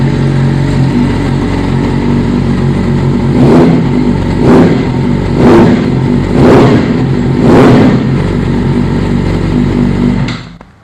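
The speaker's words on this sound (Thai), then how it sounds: "เดี๋ยวฟังเสียงท่อกันต่อครับ" A 2019 Yamaha YZF-R6 sport bike with about 19,000 km on it idles loud and close, then gives five quick throttle blips in an even rhythm. Each rev rises sharply and drops back to idle before the engine cuts off at the end.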